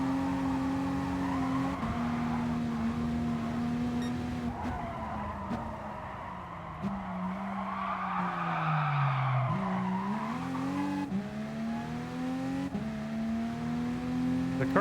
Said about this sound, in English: The car squeakiness sounds like a horn.